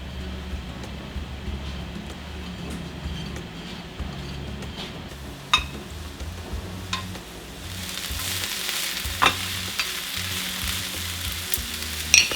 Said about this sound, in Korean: 후라이팬에 현미유를 넉넉하게 두르고 표고버섯을 파 다 같이 볶아줍니다